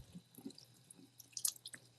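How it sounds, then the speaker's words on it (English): Tap water trickles and drips into a sink while costume teeth are rinsed, with faint scattered droplets and small splashes in a quiet room and no talking. "So if you hear like running water, that's what that sound is."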